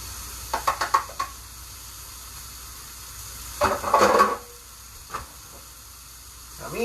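A few quick utensil knocks, then a short burst of close, hissing sizzle as chopped mushrooms land in a hot pan, fading to a quiet simmer with a soft clink later, no talking.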